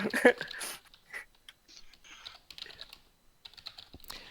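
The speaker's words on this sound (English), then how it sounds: "Here I am typing out a response to you, Ivo." Computer keyboard typing comes in short irregular bursts of clicks, close and moderately loud, with brief pauses between runs of keystrokes.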